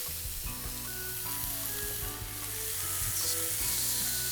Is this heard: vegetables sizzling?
yes